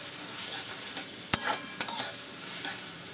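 A spice paste for Bengali tilapia fish curry fries on low heat in a pan, a soft continuous sizzle broken by a few sharp metallic clinks and scrapes of a stirring utensil.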